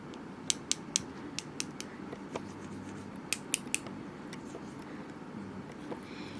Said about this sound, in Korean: 캐리시는 부딪히면 이렇게 부드러운 듯한 가벼운 소리가 나고요